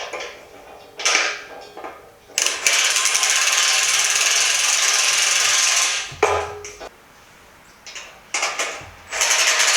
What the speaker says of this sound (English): then you fasten on either side your 10mm nut and bolt